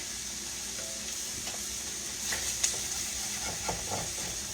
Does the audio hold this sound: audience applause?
no